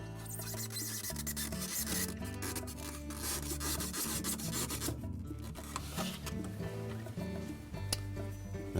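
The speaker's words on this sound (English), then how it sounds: "we'll reinstall the styrofoam block. And again, take caution when inserting that into the opening" Styrofoam block rubbing and scraping as it is pushed back into the opening of a GE refrigerator during a fan grommet repair, a quiet, steady, close-up scuffing with small creaks.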